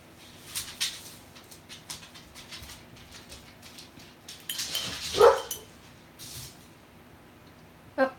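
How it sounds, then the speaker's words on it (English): Several dogs bark in short, scattered bursts indoors, with one sharper, louder yelp near the middle and fainter yaps around it and no talk. "My dogs are having a little issue."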